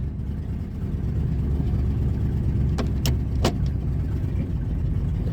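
Engine of a 2000 Ford F150 idling erratically with a heavy, continuous low rumble that chugs unevenly, loud and close, with a few brief squeaky clicks partway through.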